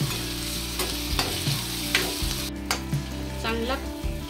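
Curry leaves and tomato hit hot oil with onions in a pan, crackling and sizzling steadily while a spoon scrapes and stirs in repeated strokes close by.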